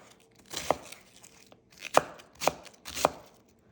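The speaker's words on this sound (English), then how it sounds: "Cutting up the cabbage." A knife chops through cabbage on a cutting board in a handful of separate crisp strikes. The cuts are spaced irregularly and sound close and clear, with no talking.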